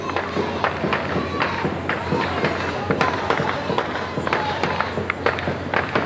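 Sharp cracks of gunfire from armed gangs in Haiti ring out repeatedly in irregular bursts, some close and some farther off, over a noisy outdoor background with voices.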